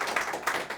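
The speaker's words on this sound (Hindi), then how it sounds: "एक बार ज़ोरदार तालियां इन साथियों के लिए होनी चाहिए" An audience at a Karz Mukti Party gathering claps in a brief, rhythmic burst of close hand claps.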